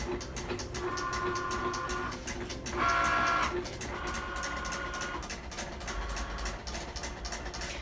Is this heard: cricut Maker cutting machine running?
yes